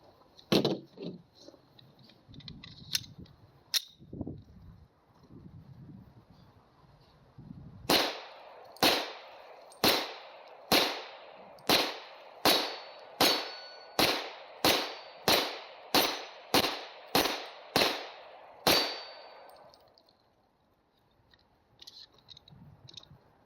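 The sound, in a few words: gunshots fired from a Taurus TH40 pistol at a target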